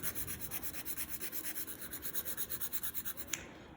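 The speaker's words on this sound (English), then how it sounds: "So I'm just gonna sit here and do a little filing." A builder gel nail is filed with a nail file in steady back-and-forth strokes, a close, soft rhythmic rasping that runs continuously before stopping with a small tap near the end.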